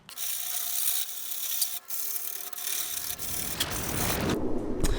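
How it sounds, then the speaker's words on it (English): Steady rasping sandpaper rubs over excess material in the engine bay of a Mitsubishi Evo 9 during prep for a bed-liner coating, loud and close with a few brief pauses between strokes. "Just gotta sand off all this excess bullcrap here"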